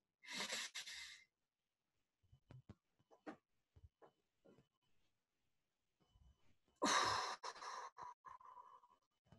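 Two loud breaths, an inhale through the nose and a long exhale, during a French sophrology relaxation exercise, separated by quiet soft movement noises.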